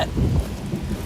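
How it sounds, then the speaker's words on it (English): Low rumbling thunder rolls beneath steady rain during a passing storm, moderately loud and somewhat distant, with no talking. "It's just you hear the thunder a little bit."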